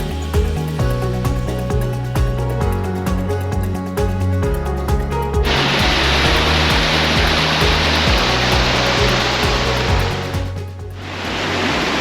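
Rushing water from a stream and series of waterfalls on Sugarloaf Mountain in the Catskills, a loud, steady broadband roar. It thickens partway through, then dips briefly near the end, with no talk.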